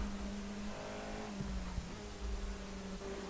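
An FIA F4 race car in the iRacing game, its engine droning in tonal whines that climb and shift through gear changes over a short stretch, fairly loud and with no speech.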